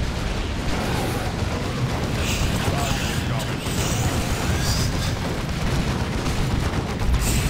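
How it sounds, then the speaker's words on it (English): Plasma cannon fire in a Dawn of War II: Retribution match, dense booming blasts and explosive bursts packed throughout under continuous commentary talk. "friendly plasma cannon shot"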